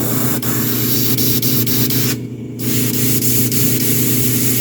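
A steady airbrush hiss spraying acrylic paint on a 1/4 scale figure runs continuously, with a brief dip in the middle and faint periodic ticks over a low mechanical hum.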